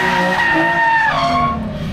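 A drift car's tires skid with the wheels broken loose, a loud, close, sustained squeal wavering in pitch over engine noise for about two seconds.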